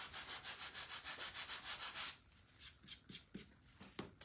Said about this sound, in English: So now I'm just going to use the edge, the side of the sander